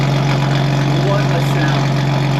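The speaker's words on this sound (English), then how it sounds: "We're gonna turn on the sport mode in the car, and you can already hear, listen to that" A Lotus Evora's engine idles in sport mode with a steady, loud, continuous low rumble and no breaks.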